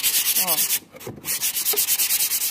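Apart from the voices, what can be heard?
light hand sanding of an MDF maternity kit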